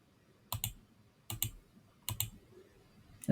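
A mouse clicks on a save button in an app interface, making three sharp, close double clicks spaced about a second apart against a quiet background.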